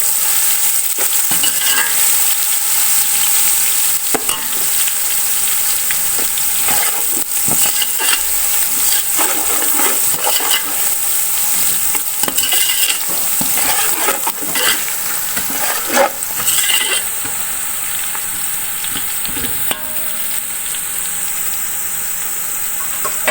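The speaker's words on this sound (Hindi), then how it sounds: "अब लहसुन को थोड़ी देर भून लेंगे।" Two teaspoons of garlic frying with browned onions in a pan, giving a steady loud sizzle and hiss with intermittent scraping stirs, close up and continuous with no talking.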